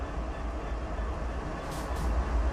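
Union Pacific AC4400 locomotives in Train Sim World 4 give a low, steady diesel rumble with rolling rail noise, holding loud and even for a couple of seconds, with a faint hiss near the end.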